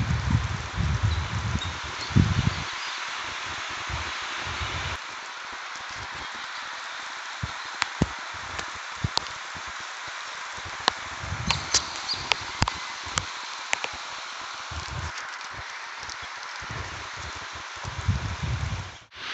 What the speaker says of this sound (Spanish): ustedes quiero que escuchen cómo se escucha la lluvia aquí